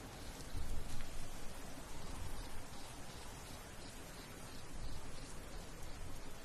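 Rain falls steadily outdoors as a soft, even wash of hiss with faint patters, fairly quiet and continuous with no voices.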